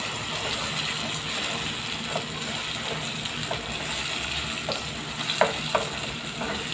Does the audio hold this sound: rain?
no